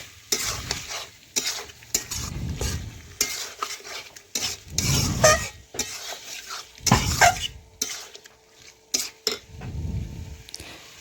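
Chicken pieces for do pyaza fry in a pan while a utensil stirs them, giving repeated bursts of scraping and sizzling with brief quieter gaps between strokes, close and fairly loud.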